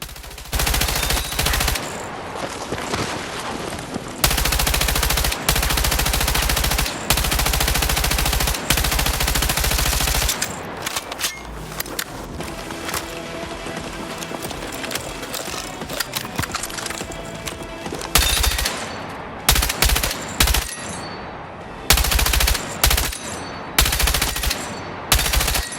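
LMG in the video game Battlefield 6 firing long and short automatic bursts, loud and rapid, with sustained streams early and choppier bursts later, and no talk.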